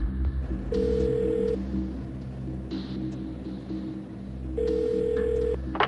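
Telephone call being placed: two bursts of steady dial or ringback tone with keypad-style beeps, fairly clear over a low background hum, no talking.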